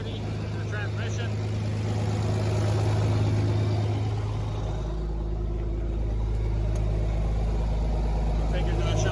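A John Deere 4430 tractor needing an engine rebuild runs at a steady low idle after frozen fuel filters were cleared, a continuous close rumble with its pitch shifting partway through and a voice speaking over it.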